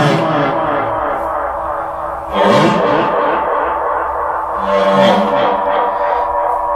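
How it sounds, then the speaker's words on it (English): A synth loop built on gear that includes a Roland SH-101 and Elektron Analog Four plays through a borrowed delay pedal, a dense buzzing pattern whose notes repeat in echoes, with swelling washes around the midpoint and near the end. "increase this Effect 1 knob and it's going to give the loop a little bit of an echo"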